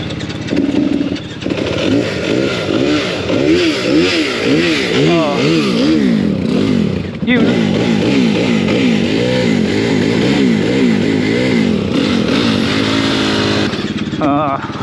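An enduro motorcycle engine revs repeatedly in rising and falling sweeps at the start line of an extreme enduro race in Wales, loud and close, with the bike playing up and voices faintly mixed in.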